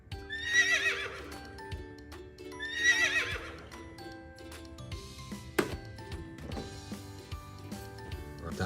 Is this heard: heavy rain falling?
no